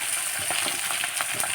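Raw potato pieces dropping into chicken curry made with local chicken, frying in a pan: a steady bright sizzle with soft stirring clatter, close and alone.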